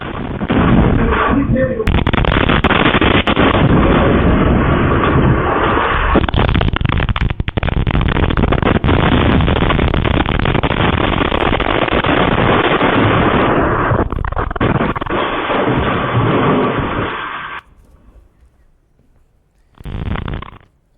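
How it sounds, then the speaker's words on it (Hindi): Loud, sustained roaring blasts and rumbling booms from explosions during an attack, captured on CCTV. They fill the air for many seconds, distorted and heavy, before dropping to quiet with one more short burst. "और ये सुनिए धमाके।"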